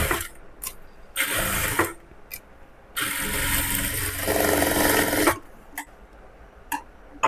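A sewing machine stitches blouse fabric in short bursts, its motor whirring in two longer runs separated by pauses and small clicks, close and fairly quiet.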